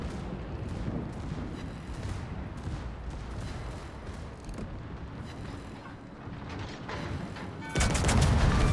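Secondary guns of a Brandenburg battleship firing at an Atago cruiser in a naval video game, a rapid run of muffled booms and cracks over a rumbling background, ending in a louder burst.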